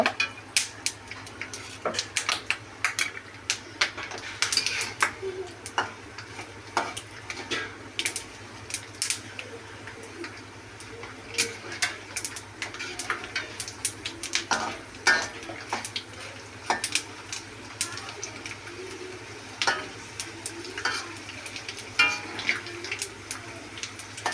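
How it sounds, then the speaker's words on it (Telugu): Peanuts and a tempering of dried red chillies fry in a pan for raw mango pulihora, with frequent close metallic scrapes and clinks from stirring over a low, steady sizzle and no talking. "పల్లీలు ఎరడాలుగా వేగిపోయాయి. పోపు కూడా వేగింది."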